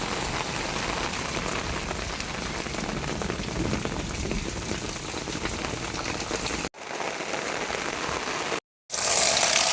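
Steady rain patters densely on a surface nearby, a continuous hiss broken by a couple of abrupt cuts near the end.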